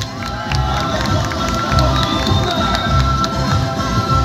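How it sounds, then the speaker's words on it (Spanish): Crowd at an outdoor comparsa festival in Achupallas cheering and applauding, a dense roar of shouts, whoops and clapping that stays loud and close throughout. "Fuertes los aplausos, por favor."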